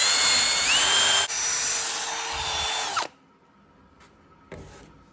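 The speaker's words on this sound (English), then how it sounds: "We're also going to take a drill around the edge here and clean all this up" A power drill whines loudly and continuously while scrubbing caked-on old grease from the front axle of a 1996 Ford F-350, then cuts off abruptly, followed by quiet and a brief clatter.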